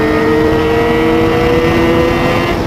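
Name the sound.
Triumph Daytona 675R and Kawasaki 636R motorcycles accelerating in 6th gear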